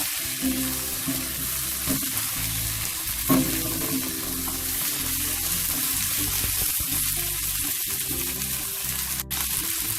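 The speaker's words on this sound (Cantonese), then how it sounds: "爆香之後咧，就將我哋嘅蝦回鑊" Large prawns return to a hot wok with garlic, ginger and shallots fried in prawn oil, giving a steady loud sizzle with stirring clatter and a scrape of the spatula across the full length.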